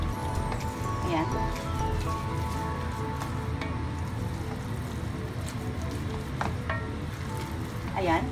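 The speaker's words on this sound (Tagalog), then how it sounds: "Mix properly lang po." Thick sticky rice biko mixture being stirred in a pot, with a continuous wet sizzling, scraping texture and occasional knocks of the spoon, loud and close, with talking around it.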